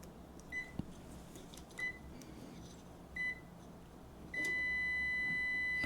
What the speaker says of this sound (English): we've got continuity through there